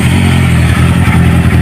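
A Kawasaki 650 R or Honda CB 650 big bike fitted with a full Akrapovic exhaust system revving loud and close, a deep throaty engine roar with rapid pulsing, heard alone.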